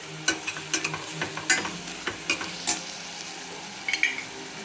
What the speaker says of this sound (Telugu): ఒక 2-3 నిమిషాలు ఇట్లా నూనెలో ఉడికించుకోవాలి